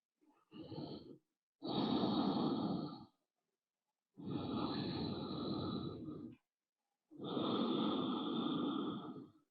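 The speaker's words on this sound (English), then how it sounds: "Taking a deep inhale and long exhale." Deep, slow breaths during a yoga practice: three long airy exhales with softer inhales between, close and steady, separated by brief silences, with no talking.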